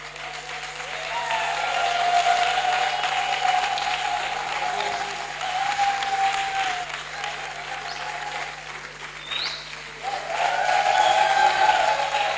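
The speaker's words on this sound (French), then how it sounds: "je vous prie d'accueillir ce soir l'artiste musicien sous vos applaudissements" Audience welcoming a musician at a dinner event with sustained applause, a broad crowd clapping that swells and eases, with music or tonal sounds running underneath.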